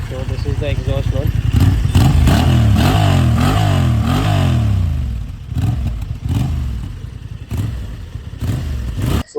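A 2025 Honda TransAlp 750 motorcycle revs loudly up close, its exhaust note climbing and falling through several sharp throttle blips before settling back toward a rough idle.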